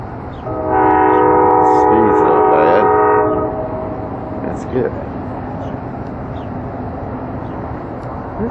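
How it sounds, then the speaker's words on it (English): A big freight train sounds a loud, sustained chord horn for a few seconds, then rolls on with a steady low rumble of passing cars that continues after the horn stops. "That's a big train."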